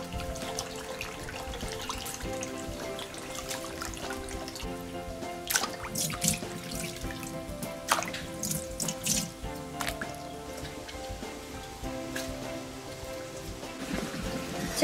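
Wood ear fungus is washed in a basin of water, with steady splashing and dripping and a few louder sloshes, close by and with no talking.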